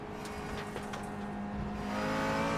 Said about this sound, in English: Turbocharged V8 in this specification of McLaren, the 570S GT4